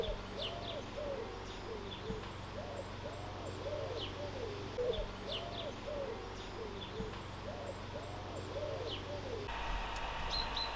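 Birdsong outdoors at a garden solar-imaging session: a repeating low hooting or cooing call cycles steadily beneath faint high chirps, all distant and soft over a constant background hum.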